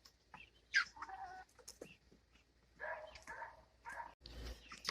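Backyard chickens cluck in short, uneven bursts at close range, with a few sharper squawks breaking through and quiet gaps between the calls.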